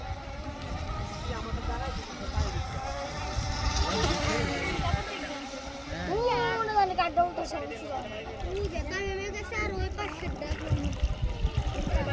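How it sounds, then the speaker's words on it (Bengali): A mono racing boat speeds across a lake at a Bangladeshi boat race in Kaliakoir, Gazipur, its engine whining and rising in pitch as it passes, heard under continuous commentary and water noise. "লাল হলুদের সেই বোটটি আবারও রিকিপ করে ফিরে আসতেছে অনেক দ্রুত গতি নিয়ে"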